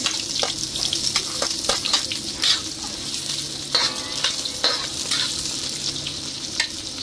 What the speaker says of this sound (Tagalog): Hintayin lang natin mag-golden brown lahat yung mga ating sibuyas